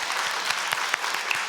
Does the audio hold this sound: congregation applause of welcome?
yes